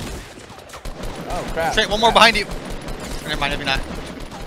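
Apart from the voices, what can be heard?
gunshots in the video game Fortnite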